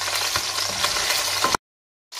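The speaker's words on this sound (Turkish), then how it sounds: "Şimdi iki diş sarımsak atıyorum içine." Two garlic cloves sizzling in a hot pan with browned beef and carrots for a boiled beef dish, a steady close frying crackle with scattered pops, then an abrupt cut to silence before the sizzle resumes.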